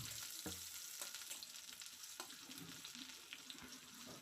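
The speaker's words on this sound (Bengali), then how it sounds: "দিয়ে সামান্য নাড়াচাড়া করে নিচ্ছি।" Chopped onions sizzling in hot oil in a wok as they are stirred for a Bengali greens curry: a quiet, continuous frying hiss broken by several light scraping clicks of the spoon against the pan.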